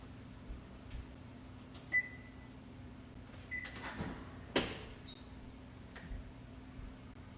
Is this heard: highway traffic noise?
no